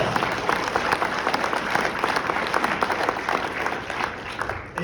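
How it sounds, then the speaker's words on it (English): A crowd at an esports lifetime achievement award ceremony breaks into loud, sustained applause, with steady dense clapping for several seconds. "And round of applause."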